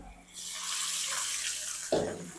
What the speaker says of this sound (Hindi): अब हम इसके अंदर ऐड करेंगे 3 टेबल स्पून पानी